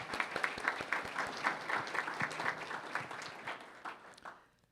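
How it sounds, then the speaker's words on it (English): Audience applause after a lecture rings out as dense, fairly close clapping that holds steady, then thins and fades away at the end. "we really should give him a round of applause"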